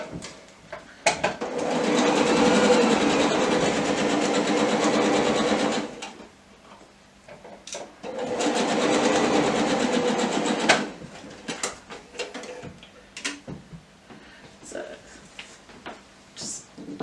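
Sewing machine stitching a quarter-inch seam through pieces of fabric for a railway fence quilt block, running in two steady bursts of about five and three seconds, with quiet handling sounds between and after them.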